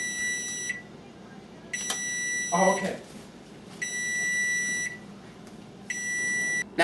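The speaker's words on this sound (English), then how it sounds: "Now that our oven has beeped," An oven timer beeps in repeated bursts of high, steady electronic tones with short gaps, heard in a kitchen while spaghetti sauce and meatballs cook, with a brief clatter and a few quiet spoken words midway.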